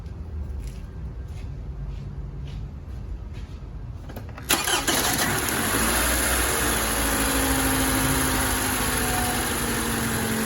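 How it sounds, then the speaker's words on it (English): A car engine cranks with a rapid rhythmic churn for several seconds, then abruptly catches and fires up, settling into a steady, loud idle at close range during an ignition coil pack test. "let's crank the car over"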